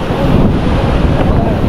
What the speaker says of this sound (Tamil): இந்த பாருங்க, இது கொஞ்சம் சின்ன அலை.